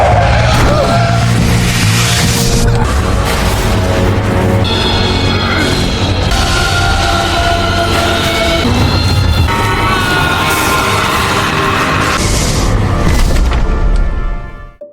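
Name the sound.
car suddenly crashing into someone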